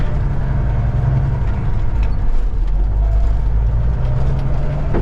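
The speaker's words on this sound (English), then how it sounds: "let's take a ride in the 379" A Peterbilt 379 semi truck rolls along, its diesel engine giving a steady low drone with road noise and faint rattles that stay constant and close, with no talking.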